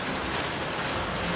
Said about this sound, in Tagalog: So, umuulan, guys.